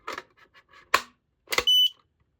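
An X-Sense SC07-W Link+ smoke and CO alarm powers up with a few short clicks and chirps, then a single high-pitched electronic beep, loud and close in a quiet room.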